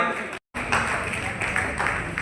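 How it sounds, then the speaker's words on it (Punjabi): Audience applause for a female student from a secondary school in Rajpura Town, Patiala, at a prize distribution ceremony held at Modi College, Patiala: loud, dense clapping from a crowd that breaks off for a moment and then carries on steadily. "ਜ਼ੋਰਦਾਰ ਤਾੜੀਆਂ"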